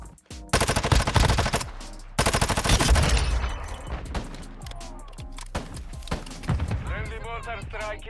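Rapid automatic gunfire from the mobile shooter Warzone Mobile, loud bursts of machine-gun fire followed by further scattered shots, with players talking over the action.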